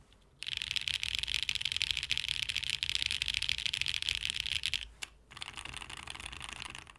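Typing on a Polaris mechanical keyboard fitted with Whale PBT keycaps: a dense, rapid run of close clicks and clacks, pausing briefly near the end before resuming more softly.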